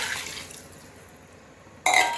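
Water is poured into a pressure cooker lined with banana leaf, holding chicken biryani. A faint splash is heard first, then after a near-silent pause comes a sudden, brief gush of liquid.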